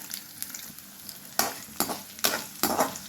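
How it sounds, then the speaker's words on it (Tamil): Garlic cloves, small shallots and curry leaves frying in hot oil for a tamarind vatha kulambu, a steady close sizzle broken by four loud stirring scrapes in the second half. "நல்லா ஃப்ரை பண்ணிக்கோங்க."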